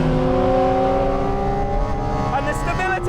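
A 2022 Porsche 718 Cayman GT4 RS accelerates hard through third gear on track, its engine note climbing in a loud, sustained wail with rising harmonics as the revs build.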